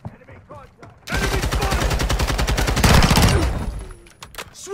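Rapid, loud bursts of gunfire erupt in Call of Duty MW2, including a sniper rifle shot, as a dense fusillade of repeated cracks runs for several seconds over faint voices.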